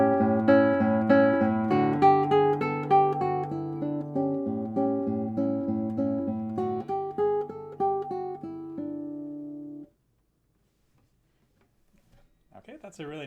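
Classical guitar playing a phrase from Carulli's Rondo op. 241 no. 34, plucked notes first played loudly and then repeated more quietly as an echo, ending in a few seconds of near silence.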